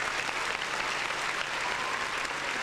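A crowd claps enthusiastically, a dense, even burst of applause that holds steady throughout.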